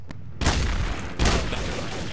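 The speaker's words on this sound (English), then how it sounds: "Shots fired." Gunshots from Garry's Mod Trouble in Terrorist Town blast in two loud, sharp bursts about a second apart, each leaving a noisy roar that lingers, with no voices.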